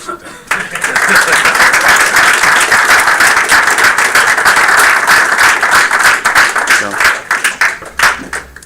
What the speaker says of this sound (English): as we clap for you